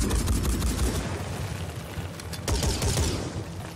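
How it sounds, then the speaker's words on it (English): Dense bursts of video-game gunfire, return fire in a Phoenix Point battle, rattle continuously with overlapping shots and booms, loud and close, swelling again near the end with no talk. "Petyeva just crippled that thing with return fire"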